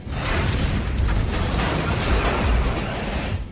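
A loud, sustained rumbling explosion blast at a motorsport event, with crackling debris, filling the whole stretch without any talking.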